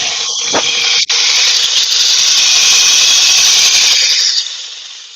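Dull woodturning gouge cutting into wood on a spinning lathe, a loud continuous broadband hiss and rasp with a brief break about a second in, steady to the end before easing off.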